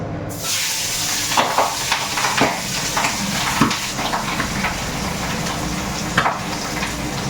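Pabda fish fry in a pan with a steady, fairly loud sizzle throughout, broken by scattered light clinks and scrapes of a utensil.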